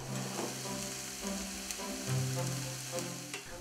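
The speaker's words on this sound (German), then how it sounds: "den Reis, den Risotto-Reis, den rösten wir auch noch kurz mit an" Risotto rice with onions toasting in a pan for green asparagus risotto gives a steady close sizzle and crackle, with soft scraping from stirring and no voices.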